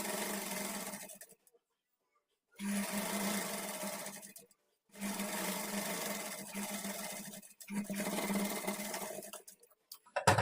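A sewing machine stitches the double-folded bottom hem of a kurti in three or four close bursts of steady whirring, each separated by a short silent pause, with no talking.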